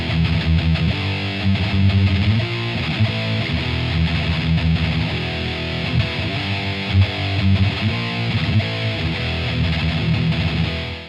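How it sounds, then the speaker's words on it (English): Loud, steady distorted electric guitar riffing from a Line 6/Bogner HD-100 amp's line out with an impulse response loaded, continuous chugging chords with a full low end and no talking. "now we have an impulse response loaded, and now it sounds like this."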